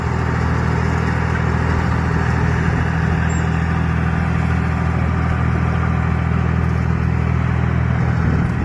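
Small bulldozer with a 42 horsepower, three-cylinder non-turbo engine running steadily nearby, a loud continuous low mechanical drone and rumble with no pauses and no talking.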